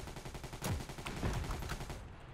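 Rapid gunfire from the WWII shooter game Heroes & Generals, with dense repeated shots and bursts layered over constant loud battle noise, close and continuous.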